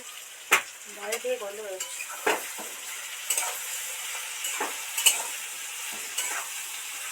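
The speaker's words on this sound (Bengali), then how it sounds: "সোয়াবিন আলু তো ভাজতেই থাকছি" Soybean chunks and potatoes fry in a pan, a soft steady sizzle under sharp intermittent clacks of a spatula against the metal. A brief faint voice-like murmur comes early on.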